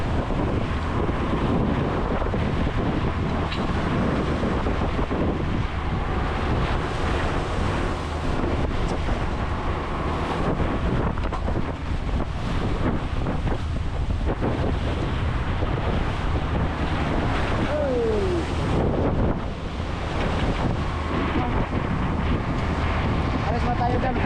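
Strong Pacific Ocean surf pounds steadily under a gusty December wind, with heavy wind buffeting on the microphone and a continuous loud roar of breaking waves filling the whole stretch.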